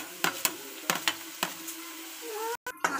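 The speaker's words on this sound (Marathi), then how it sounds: "आता आपण यामध्ये कांदा टाकूया." Onion goes into hot oil in a wok, close up: a soft sizzle under several sharp scraping stir strokes and clinks of a spatula, with a brief dropout near the end.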